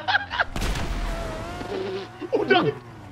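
Gunfire erupts in a GTA roleplay session on a NoPixel server: a loud, close burst of booming shots crashes in, then a ringing tail fades under excited voices.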